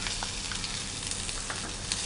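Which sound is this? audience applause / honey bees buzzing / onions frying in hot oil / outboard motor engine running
onions frying in hot oil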